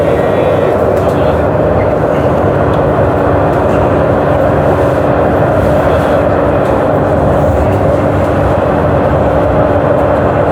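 Steady rumble of a moving train from Damascus Gate to Safra Square in Jerusalem, a constant low drone with a faint hum running throughout, no voices standing out.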